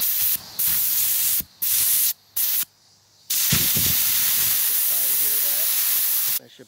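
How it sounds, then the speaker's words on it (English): Compressed air from an air compressor nozzle blasts in several short bursts, loud and close, then one longer hiss; a voice speaks briefly in the gaps. "let's just test out the nozzle real quick"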